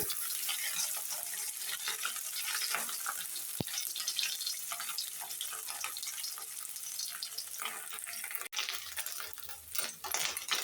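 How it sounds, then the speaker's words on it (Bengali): Tengra fish frying in a pan gives off a soft, steady hiss of sizzling oil, faint and close, with no voices over it. "আমি ট্যাংরা মাছটা ভাজি বসিয়ে দিয়েছি"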